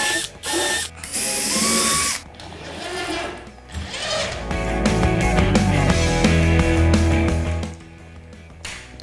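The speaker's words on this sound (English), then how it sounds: "Pop that in your drill bit and then just pre-drill those out." Power drill pre-drilling screw holes into a timber-framed plasterboard wall, a loud steady motor whine with short bursts and pauses early on, then a sustained run, close up with no talk.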